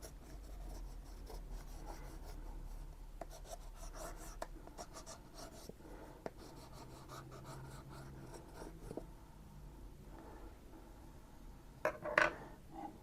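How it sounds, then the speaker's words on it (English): A Stabilo pencil drags across a sketchbook page in continuous scratchy strokes of mark making, close and quiet, with a few louder taps near the end and no talk. "I also got me a Stabilo pencil to do some mark making"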